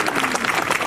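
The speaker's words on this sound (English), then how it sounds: "so that deserves a round of applause. I said round of applause." A live audience at a 90s rock show gives a short burst of dense applause, loud and close with no voices on top.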